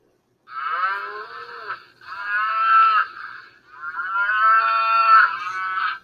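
A spotted cow on a farm moos loudly three times in a row, long drawn-out lowing calls close by with short pauses between them.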